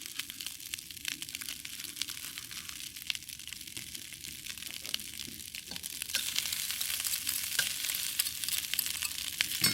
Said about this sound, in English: Then I'm going to put all the shrimp and egg back into the wok